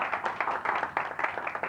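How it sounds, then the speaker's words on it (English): A dense burst of applause rises from a seminar audience, many hands clapping together in a steady, fairly close patter. "Give a round of applause to fourth vehicle."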